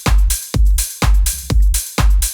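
A house drum groove with layered sixteenth-note closed hi-hats ticking over a kick, with steady pumping four-on-the-floor pulses and short gaps between hits, loud and upfront.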